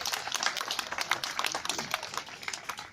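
Scattered, fairly faint clapping from an audience at a sea lion show, a loose patter of individual claps without a full ovation.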